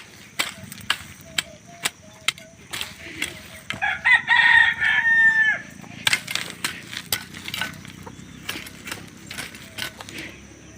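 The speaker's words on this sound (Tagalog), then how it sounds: "uy may manok pa" A rooster crows once, moderately near, amid scattered clicks and clatter from nearby activity.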